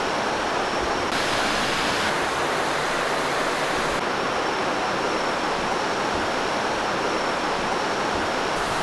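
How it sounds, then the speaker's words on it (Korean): Cheonjiyeon Waterfall on Jeju Island roars with rushing water in a loud, steady, unbroken wash of white noise, heard alone without voices. "천지연 폭포에 도착했습니다"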